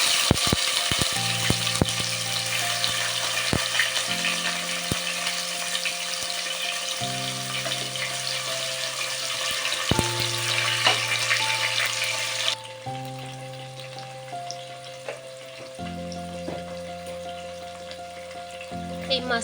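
Chopped tomatoes frying in hot oil with radhuni and green chillies for a fish curry, a steady close sizzle throughout with occasional stirring clinks and background music.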